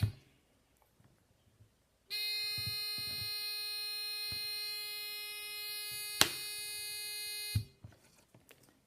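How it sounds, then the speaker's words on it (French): A coaxial cable short-circuit warning buzzer sounds a steady, loud electronic tone for several seconds, with a brief louder click midway, then cuts off, leaving faint handling noises before and after. "on peut entendre l'alarme retentir"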